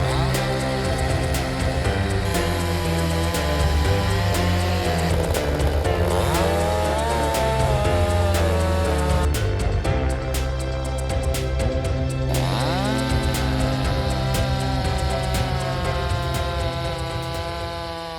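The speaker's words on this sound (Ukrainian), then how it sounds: "Довжина шини 18 дюймів дає змогу пиляти як невеликі гілки, так і товсті стовбури дерев." A Vitals petrol chainsaw with an 18-inch bar runs continuously at high revs while cutting wood, a loud steady engine whine with pitch shifts as the load changes, with no talking over it.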